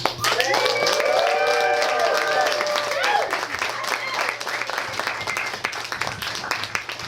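An audience applauds a speaker at a conversation event as voices call out over it, sustained clapping with whoops running through the first few seconds, then thinning under a murmuring crowd.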